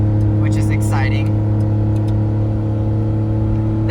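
A Honda Beat kei car hums along the freeway at speed, a steady, loud engine drone with road noise throughout, a brief whoosh as another vehicle is overtaken early on and a short voice over the engine.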